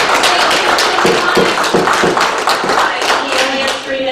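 Audience applause fills a city council meeting room in Port Angeles, a steady, dense patter of many hands clapping at moderate loudness for about four seconds, with a little murmuring underneath.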